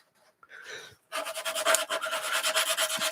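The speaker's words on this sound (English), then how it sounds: "And then I can take some sandpaper." Sandpaper rubs in quick back-and-forth strokes against the underside of a model aircraft wing, a close, rhythmic rasp that follows a few fainter scrapes and a short pause.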